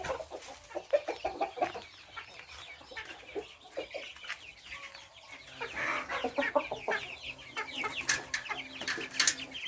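Free-range chickens cluck and squawk nearby in a busy, irregular chorus, quieter at first and then growing louder and more crowded toward the end.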